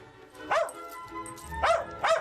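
A small dog gives three sharp, high yapping barks, one alone and then two close together, with faint background noise between them.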